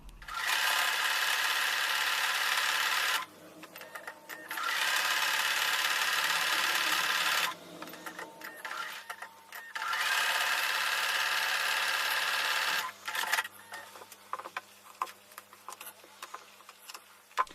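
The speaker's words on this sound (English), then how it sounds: "I'm going to go back to the sewing machine and again I'm going to sew a 1/4 inch seam on both sides of the drawn line" A sewing machine stitches a quarter-inch seam along both sides of a drawn line on a quilt block, running in three long steady whirring bursts separated by short pauses filled with soft handling clicks and ticks, close and clear with no voices.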